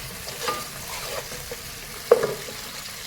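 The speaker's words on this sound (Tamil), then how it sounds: "அந்த பழத்தையும் போட்டு நல்லா வதக்குவோம்." Native tomatoes sauté in hot oil in a pan for Chettinad crab curry, giving a soft steady sizzle with a brief scrape of stirring partway through, close and fairly quiet.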